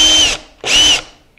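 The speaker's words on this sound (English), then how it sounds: "I'm gonna take my drill." A power drill bores into wood in two short, close whirring bursts, each lasting about a third of a second, with a brief pause between them and no talking.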